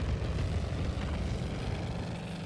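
Steady, loud droning roar of a fighter plane engine during a video game dogfight, constant throughout with no other sounds breaking through.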